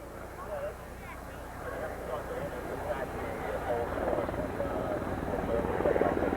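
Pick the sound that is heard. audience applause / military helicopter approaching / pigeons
military helicopter approaching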